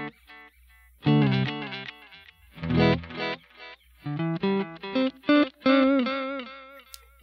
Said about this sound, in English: They sound just like the signal, so that's what you're going to get with the digital delay.